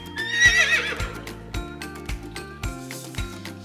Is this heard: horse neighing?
yes